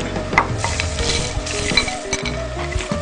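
Peanuts fry in a pan for Indonesian chicken satay sauce, with a steady close sizzle and a spoon stirring and scraping through them, plus occasional light clinks against the pan.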